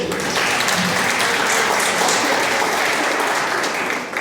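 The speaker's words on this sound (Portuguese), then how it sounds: "salve de palmas" Audience applause fills the room at a Eucharist gathering, dense steady clapping at close range that fades slightly at the end.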